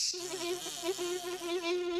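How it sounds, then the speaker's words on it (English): Cartoon sound effect of bees buzzing inside a large jar in an old animated series, a continuous nasal drone that wavers slightly in pitch and loudness, close and alone with no talking. "the fortune teller held forth a large jar of buzzing bees"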